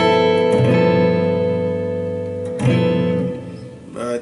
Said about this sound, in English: For the dominant 13, it's going to sound something like this.